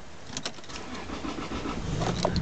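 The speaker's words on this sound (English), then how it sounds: "Just going to start the engine up." The 3.0-litre petrol engine of a 1998 Lexus GS300 SE automatic is started: key and starter clicks and a brief crank build into a rising, settling idle, close and moderately loud.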